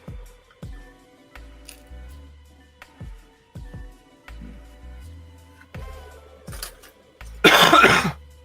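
During a live model-kit build of a PLAMAX Godz Order Yuri Godbuster, a series of clicks and snips from handling plastic parts is followed by one loud, close cough near the end.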